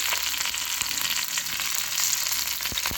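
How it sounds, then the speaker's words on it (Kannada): Garlic and curry leaves fry in hot oil, a dense, bright crackling sizzle that holds steady and close, with a couple of faint utensil taps near the end and no voices. "ಸ್ವಲ್ಪ ಬೆಳ್ಳುಳ್ಳಿ ಫ್ರೈ ಆಗಬೇಕು"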